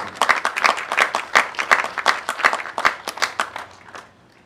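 Cadets at an ROTC commissioning ceremony applauding their families and friends, a brisk burst of clapping from a modest group that holds steady and then tapers off toward the end.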